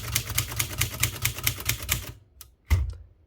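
Typing on a Princess 500 typewriter: a quick, even run of crisp key strikes for about two seconds, then a pause and a couple of isolated clacks with a heavier mechanical thunk.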